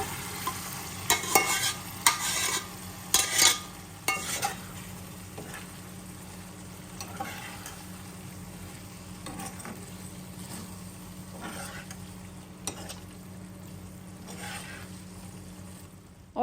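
Masala being roasted and stirred in a pan for dhaba-style chana dal, with a steady sizzle under repeated scraping, stirring strokes, louder in the first few seconds and then settling into continuous frying.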